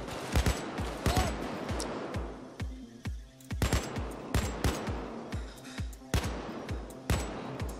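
Rapid gunfire in PayDay 2, with repeated sharp automatic bursts and single shots cracking close and loud across the whole stretch, some aimed at a wall, with no voices.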